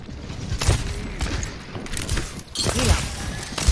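Explosions and gunfire from a payload match in Overwatch, including an Ana grenade, come as a rapid burst of sharp blasts with crashing bursts, while a player talks over the action.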